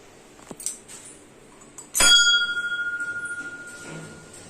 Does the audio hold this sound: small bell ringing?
yes